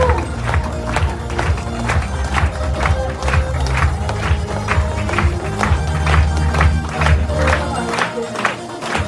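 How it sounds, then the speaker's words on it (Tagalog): Audience at a business opportunity presentation breaks into clapping and crowd noise, with a strong, regular beat of rhythmic clapping and cheering running loud and steady throughout. "O guys, palakpak naman kayo!"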